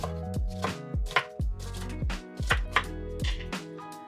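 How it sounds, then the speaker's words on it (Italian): A knife chops through firm asparagus stalks on a board, about a dozen crisp thuds in an uneven rhythm, close and fairly loud, with no talking. "E adesso cominciamo a tagliare i gambi."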